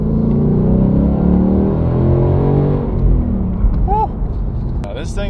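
A Ford Mustang GT PP2 engine, rated 460 horsepower, roars loudly and steadily under hard acceleration, with a continuous low rumble throughout and a brief whine and chirp near the end.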